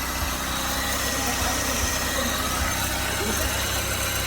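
A 1996 Honda Civic EK, left parked for two or three years, idles with a steady, even engine drone close by, while people talk faintly in the background.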